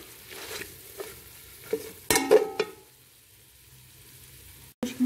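Biryani masala, coriander powder, cumin powder and salt being stirred in a pan over a soft sizzle, with scattered scrapes and knocks and a louder burst of clattering midway, then a quieter stretch before one last sharp scrape.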